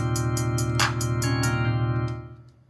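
Crisp hi-hat hits tick in a quick steady pattern over a sustained bass tone, then the beat thins out and fades near the end.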